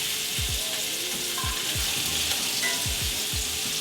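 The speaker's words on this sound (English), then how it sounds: "So we're gonna sear it." A beef fillet for beef wellington sears in a hot pan with a loud, steady sizzle, close to the listener, broken by a few low thumps and scrapes as the meat is handled.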